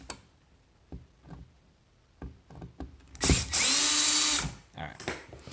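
A power drill whirs in one loud burst of about a second, close by, loosening the screws of an electrical outlet, with scattered clicks and handling knocks before and after.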